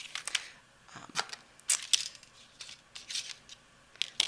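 Designer series paper being cut with scissors to make a Christmas bakers box, a series of sharp snipping cuts in short irregular bursts, close and quiet against a silent background.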